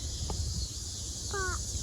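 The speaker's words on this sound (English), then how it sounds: "Bird, yeah, it was a bird up there." A crow gives a single short caw from some distance outdoors, faint against steady insect buzz and low background rumble.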